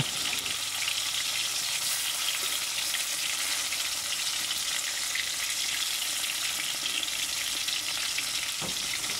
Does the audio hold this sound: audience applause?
no